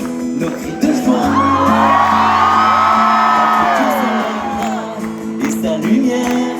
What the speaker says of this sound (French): c'est un petit cri de joie de début de soirée créole